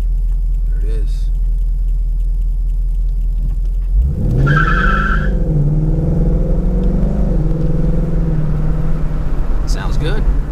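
A Ford Mustang GT rumbles at idle, then its tires chirp and skid briefly as the engine revs and traction control engages, steady drone continuing underneath, heard from inside the car.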